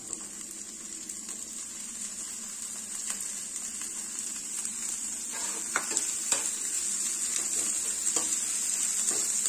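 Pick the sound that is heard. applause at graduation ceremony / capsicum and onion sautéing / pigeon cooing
capsicum and onion sautéing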